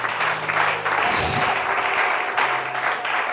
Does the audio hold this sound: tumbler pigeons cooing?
no